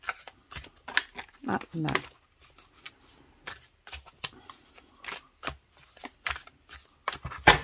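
Oracle cards tumble and get gathered and shuffled by hand: a quick run of crisp, papery flicks and slaps, loud and close, mixed with a woman's chatter throughout.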